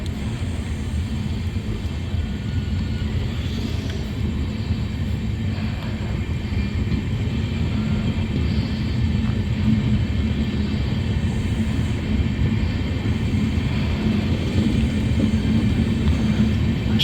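An Amrit Bharat Express with WAP5 locomotives at both ends rolls past as a continuous heavy low rumble, steady and fairly close throughout and slightly louder toward the end.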